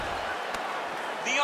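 Ground strike landing in a UFC 5 video game fight: a single dull thump lands faintly amid quiet arena ambience, followed by a rising swell of crowd or game noise at the end.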